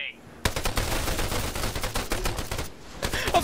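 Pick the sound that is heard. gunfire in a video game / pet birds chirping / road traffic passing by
gunfire in a video game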